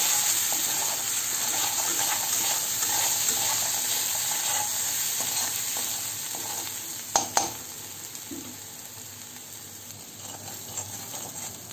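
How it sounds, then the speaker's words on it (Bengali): Fish masala of Kashmiri chilli powder, turmeric and salt frying steadily in a pan for a pomfret curry, a continuous soft sizzle with stirring scrapes and two sharp clinks near the middle, no talk. "হলুদ এবং নুন দিয়ে এটাকে আমি বেশ কিছুক্ষণ আবার কষতে থাকবো।"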